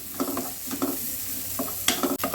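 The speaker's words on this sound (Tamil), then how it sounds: "நல்லா வதக்கிக்கலாம்" Ginger and garlic sauté in a pan for paneer butter masala, with a steady close sizzle broken by repeated scraping stirs.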